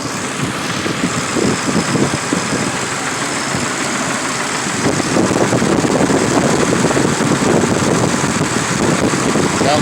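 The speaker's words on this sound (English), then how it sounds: "That's the heat shield rattling. It's gonna tap like this." A 3.9 engine idles steadily and loudly with a faint tapping rattle from a loose heat shield, the drone continuous throughout and close up.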